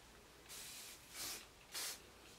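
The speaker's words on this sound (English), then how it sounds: "And if I just finish it with a bit of spray." Three short bursts of hairspray hissing close by, each lasting about half a second with brief pauses between, in an otherwise quiet room.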